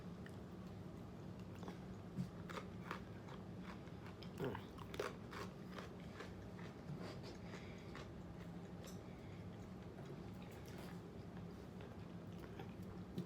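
Close, steady crunching and chewing of a crunchy pretzel bite from a homemade snack mix, a continuous run of small crisp bites and mastication without talking.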